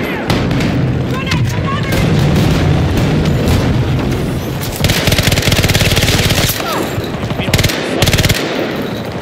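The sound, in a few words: AC9 gunfire in video game Battlefield 2042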